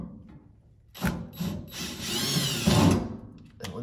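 A power drill fitted with a right-angle attachment and a small bit drills out a pilot on a 1970s heater restoration, short whining bursts of the motor rising and falling, close and loud against a quiet workshop.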